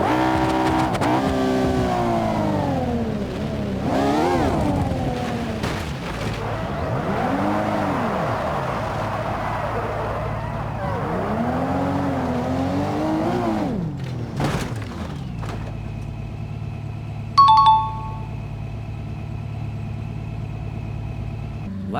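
A Koenigsegg Jesko hypercar in BeamNG Drive accelerates hard through repeated rising engine sweeps and gear shifts, loud and close, before settling to a steady idle hum with a short sharp blip near the end.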